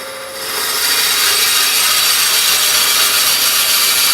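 A drill bit bores steadily into wet wood spinning on a lathe at about 800 rpm, a harsh, continuous grinding and rasping that rises after a brief quieter start.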